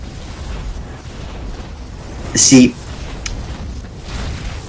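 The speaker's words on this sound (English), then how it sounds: "this is the power of the Nexus cannon." A Nexus cannon firing in a StarCraft II match lands as one brief burst of blast and boom in the middle of the stretch, over a steady bed of game noise, with a commentator's voice at the start.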